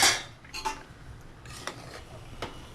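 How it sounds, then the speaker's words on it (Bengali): A metal pot lid comes off a pan of fried rice with a few faint, scattered clinks and taps in a quiet kitchen. "দেখো বন্ধুরা আমি আরেকবারও ঢাকাটা সরিয়ে দেখছি।"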